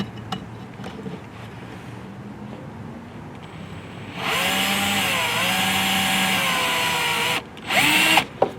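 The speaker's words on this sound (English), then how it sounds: "I'll go ahead and drill my pilot hole" A power drill whirs steadily for about three seconds drilling a pilot hole in a 2018-2023 Ford Mustang, winding down briefly before a short second burst; no talking, fairly close and loud.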